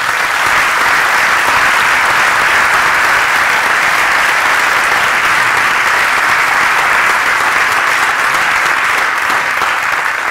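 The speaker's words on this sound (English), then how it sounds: "One more time, an applause for Mr. Cohen." Loud, dense applause from an audience after a speech, continuous even clapping that fills the whole stretch without a break.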